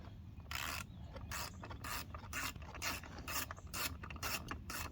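A ratchet clicks in quick repeated bursts while loosening the blower housing on a Bolens 450E 125cc small engine, with about ten close, crisp ratcheting strokes in an even rhythm and no talk.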